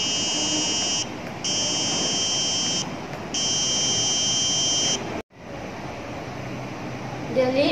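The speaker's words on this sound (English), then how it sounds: "The function of the RGB LED and buzzer are that they will light up and make a continuous sound" A high electronic buzzer on a smart dustbin sounds in three long steady tones with short gaps while the lid is open, over a noisy background with faint voices nearby.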